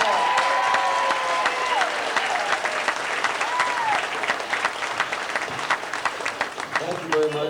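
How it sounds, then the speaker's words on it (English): Sustained applause from a bluegrass concert audience, many hands clapping at once, with a few whoops and a voice faintly audible over it. "bring them back on with a round of applause if you wanted to hear some more"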